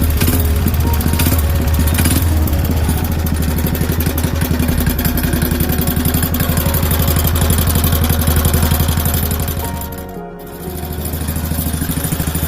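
A mini T-bucket's small engine, pull-started, runs loud and close at a steady rough idle with a fast chugging pulse, dipping briefly near the end before picking up again.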